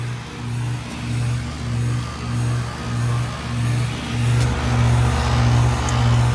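A 2004 Lennox Elite 4-ton air conditioner with an open scroll compressor hums in a low, pulsing drone that settles into a steadier, slightly louder run partway through, heard up close with no talking.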